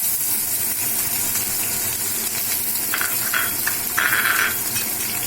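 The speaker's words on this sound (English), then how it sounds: "So our oil is hot, so we are going to put the ingredients one by one. So first I am putting the capsicum" Capsicum dropped into hot oil over a high flame for chilli chicken, a steady close sizzle and hiss of frying with a few brighter crackling spurts toward the end.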